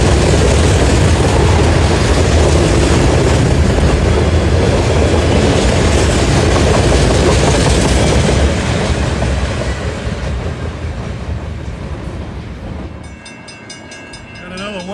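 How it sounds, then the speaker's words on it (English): A Norfolk Southern freight train rolls past at close range, loud and steady with a continuous rumble of wagons for most of the run, then thins out and fades as the last cars go by near the end. "At first I thought this train was NS Local H99, but that usually runs with 4-axle power."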